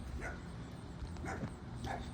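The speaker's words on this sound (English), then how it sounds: "There's dog right there." A dog barks three times at roughly one-second intervals, a short distance off, over steady outdoor noise at an apartment complex with central air conditioners running nearby.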